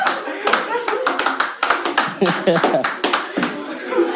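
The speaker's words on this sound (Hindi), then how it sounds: "इनकी तालियां बता रही हैं कुछ" At a stand-up comedy show, the audience breaks into lively clapping mixed with laughter. The claps are sharp and close, with a performer's voice running over them.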